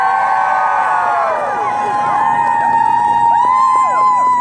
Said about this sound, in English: Let's give a warm round of applause to all of our volunteers